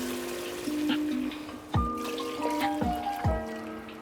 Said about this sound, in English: Now let's add our water.